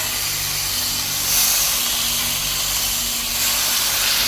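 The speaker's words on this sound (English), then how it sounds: "You hear that sizzle." Beef rump steak sizzles on a hot Weber griddle, a loud continuous hiss and crackle that swells briefly, with no talking.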